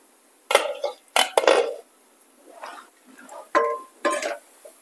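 A lid lifted off a pan of sheera halwa (semolina pudding) on a home stove: several sharp metallic clanks and clatters separated by short pauses, close and fairly loud.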